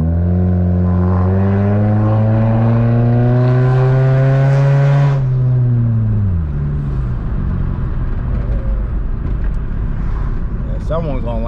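A Chevrolet Cavalier LS Sport race car engine revs hard, climbing loudly in pitch before dropping off and settling into a low, rumbling idle.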